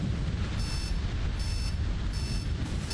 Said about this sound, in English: That's like alarm clock sound.